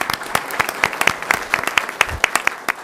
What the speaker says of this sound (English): make sure that he's heard that applause for him for doing such a good job with the city here